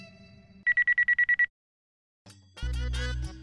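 A mobile phone sounds a message notification as a quick, bright run of about eight short beeps, then a pause, followed by a louder musical jingle.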